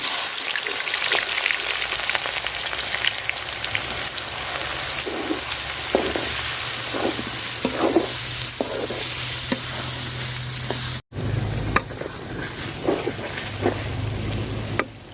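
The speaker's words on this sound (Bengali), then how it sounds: "এই তেলে আমি দিয়ে দিব পেঁয়াজ কুচি" Chopped onion sizzles steadily in hot oil left from frying chicken for a chicken roast, a dense, close crackle running throughout with only a momentary break late on.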